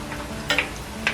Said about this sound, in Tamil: இருக்குல்ல வெங்காயம் வந்து நல்லா கோல்டன் ப்ரௌனாக வர வரையும் இதை நான் பொரிக்க போகிறேன்